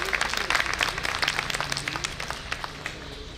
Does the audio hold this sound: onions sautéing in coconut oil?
no